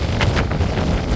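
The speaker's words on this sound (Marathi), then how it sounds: "आता पाऊस वारा आला." Wind and rain buffet the microphone during a boat trip, a loud, steady roar of wind noise with low rumbling gusts throughout and no talk.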